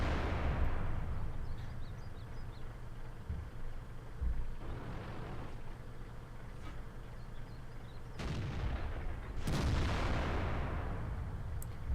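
FV215b tank guns in World of Tanks boom in several heavy artillery-style blasts spaced seconds apart, each a loud thud with a fading tail over a constant low engine rumble.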